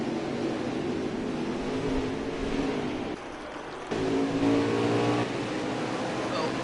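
Race trucks roaring around Watkins Glen in a racing video game, a steady, dense engine drone with a brief dip in the middle before the noise swells back. No one speaks.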